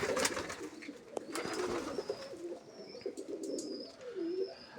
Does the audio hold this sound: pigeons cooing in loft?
yes